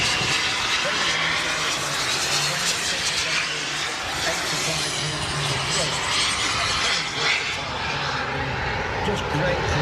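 A large model aircraft flies at walking pace down the runway at an airshow, its engine a steady, close, broadband drone under a commentator's voice.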